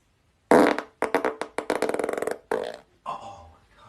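A young man's farts, close to the listener: a loud opening burst, then a rapid series of short wet sputters and a few later blasts, ending in a softer low trailing rumble.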